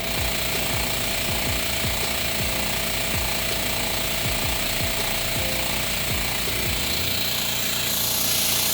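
Air compressor running in a garage during brake bleeding, a rapid hammering motor chatter with pulsing knocks and hiss, loud and close, settling into a steadier whine near the end.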